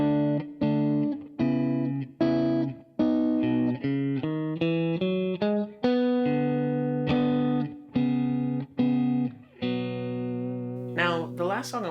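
Electric guitar plays a melodic chorus line of clean, chorus-wobbled plucked notes in a steady rhythm, ending on a warbling sustained chord, loud and alone.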